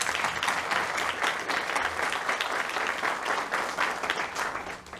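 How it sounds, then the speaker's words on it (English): Applause from the crowd at a Head Start ribbon-cutting ceremony, a fairly distant, even patter of many hands clapping that continues for several seconds and tapers near the end. "So let's give him a round of applause."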